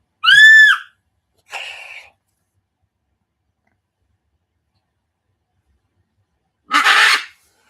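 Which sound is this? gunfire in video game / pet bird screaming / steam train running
pet bird screaming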